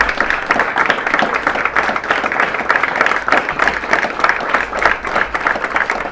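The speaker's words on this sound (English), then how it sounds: "I am going to make sure that one person gets her applause." Sustained crowd applause at an Ohio primary election campaign event, loud dense clapping filling the room steadily for several seconds with no talk over it.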